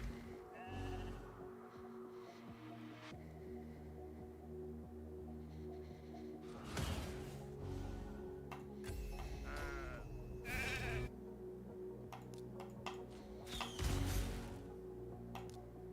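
Sheep bleats triggered by a sheep protection ability in a video game arena fight, several loud bleats about three seconds apart over a humming game soundtrack with mechanical effects.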